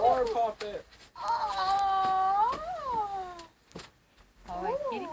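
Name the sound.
cat meowing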